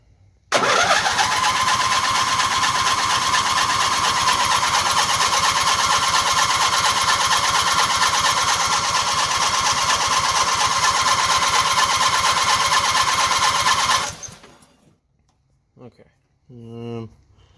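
A small auction lawn mower engine cranks over and fires, then runs loud and steady at about half throttle with choke on for roughly fourteen seconds before cutting out, followed by brief quiet speech.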